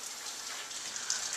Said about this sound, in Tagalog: Pero kung maririnig nyo, umuulan.